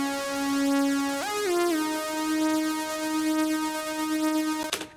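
A bright, buzzy synth saw tone without a gate holds a steady note, sliding briefly up in pitch and back down, clean and sustained, then cutting off with a short click.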